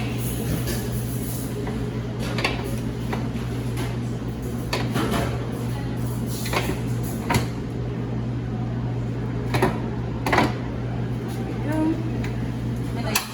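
A steady machine hum fills the room while a stand mixer bowl is set down and locked in place, with scattered knocks and clicks of metal and plastic; a person talks throughout.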